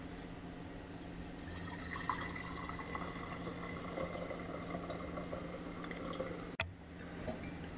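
Turkey tail mushroom decoction strained into a jar, a quiet steady trickle and pour of liquid with faint drips and one brief bump near the end, close and soft.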